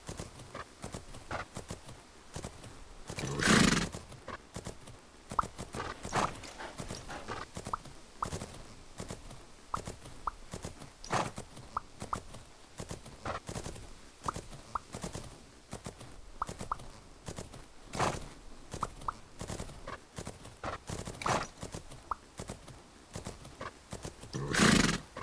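Video game Clydesdale draft cross stock horse whinnying loudly a few times, with soft repeated hoof clip-clops throughout and no talking.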